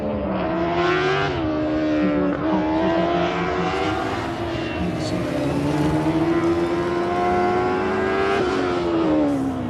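A race car on an autocross run at Auto Club Speedway holds a loud, continuous engine note that climbs and dips through rapid shifts and throttle changes, with no break across the run.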